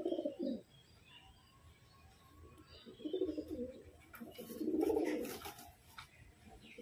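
Pigeons cooing nearby in a loft, several low throaty coos in bursts with pauses between, alongside faint chirps and a bit of wing movement in the background.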